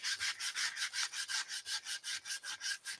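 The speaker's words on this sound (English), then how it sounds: "I'm just sanding off this extra paper" Rhythmic back-and-forth rasping of sandpaper rubbing excess paper off the edge of a spring home-decor craft piece, about a dozen even strokes, close and fairly soft.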